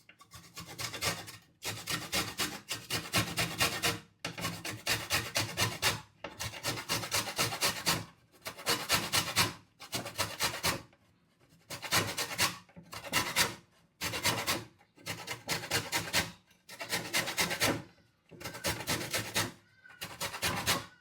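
A lemon's outer peel is rubbed over a hand grater in close, rhythmic rasping strokes, fast bursts of scraping separated by short pauses, repeated around a dozen times.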